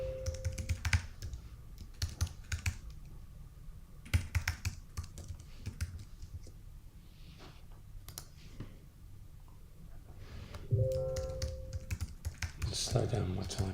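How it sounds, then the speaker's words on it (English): Typing on a computer keyboard: bursts of quick clicking keystrokes separated by pauses, with a voice speaking at times over the tapping. "Slow down my typing."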